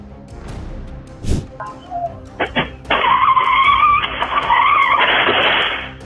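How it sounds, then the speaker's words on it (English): A cement mixer truck skids and crashes. A loud sustained tire squeal and screech follows a few sharp impacts, then fades near the end. "The driver only had time to escape when he knew his cement mixer truck could not be saved."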